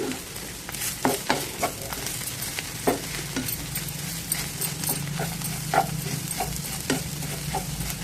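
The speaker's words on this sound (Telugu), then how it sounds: "బాగా మిక్స్ చేసుకుందాం" Carrot fry being stirred in a pan, a spoon scraping and clacking in irregular strokes over a steady close sizzle, with no voices.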